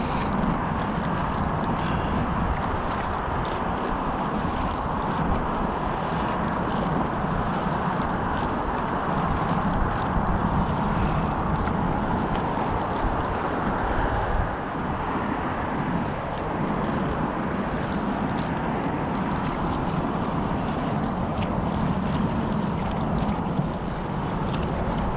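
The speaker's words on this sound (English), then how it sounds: "industrial boats here. 2 motors on that one." An industrial motorboat with two motors passes close on the Exe estuary, making a loud, steady engine drone with water and wind noise that holds for the whole stretch as it goes by almost directly underneath.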